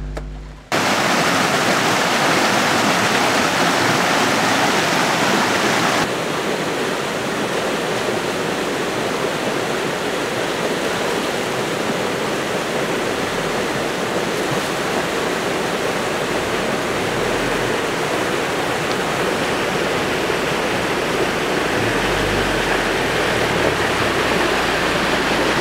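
A river rushes in a steady, dense roar during a crossing on the way to a village in West Kalimantan, loud and close throughout with no voices.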